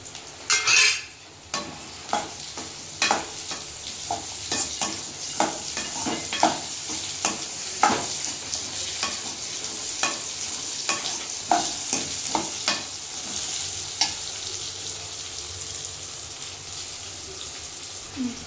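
Curry base for country chicken curry sautéing with ginger in a pan, a steady close sizzle broken by repeated scraping and clinking stirs of a utensil against the metal, with no talking.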